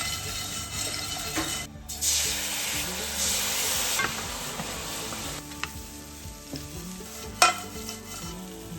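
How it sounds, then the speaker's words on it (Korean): Garlic, scallion and fried shrimp stir-frying in a pan, with a steady sizzle under continuous scraping and stirring and a few sharper utensil knocks, close-up and without speech. "이렇게 마늘이랑 파를 먼저 볶고 그 다음에 이 볶은 새우를 이렇게 넣는 거야"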